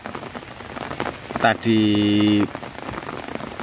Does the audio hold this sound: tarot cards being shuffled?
no